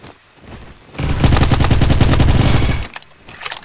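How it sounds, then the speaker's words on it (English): Rapid automatic gunfire from a fast-firing gun in the Roblox game Bad Business bursts loud and close for about two seconds as a tight, even stream of shots, with quiet game ambience before and after. "this is a fast gun"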